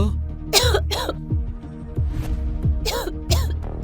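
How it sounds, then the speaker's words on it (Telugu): A woman coughs in two pairs of sharp, loud bursts, close by, with a low hum in the background. "ఆమె చలికి దగ్గుతుంది"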